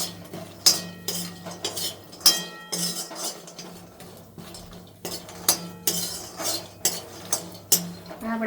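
Cashews for khajur pak roast in a pan over high heat, stirred with a utensil that clinks and scrapes against the metal in a repeating, uneven rhythm, close and moderately loud, with no talking.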